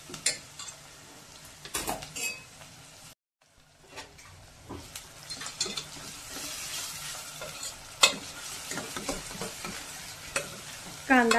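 Onion and tomato frying in oil in a home kitchen pan, with a steady sizzle under repeated scraping and stirring knocks of a utensil against the pan, and a brief pause partway through.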